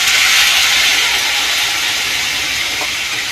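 Ginger, garlic and chili paste hits hot oil and sets off a loud, steady broadband sizzle that holds for the whole stretch, fading only slightly near the end, with no talking over it.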